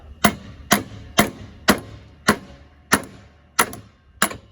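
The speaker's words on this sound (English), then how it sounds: "Usually just put a little bit of pressure behind it and hit it with a hammer." A hammer strikes a car steering part repeatedly to knock it off a splined shaft, eight sharp metallic blows at an even pace, each with a short ring, close and clear with no talk.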